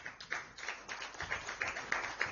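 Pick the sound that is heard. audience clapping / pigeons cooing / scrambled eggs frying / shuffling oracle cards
audience clapping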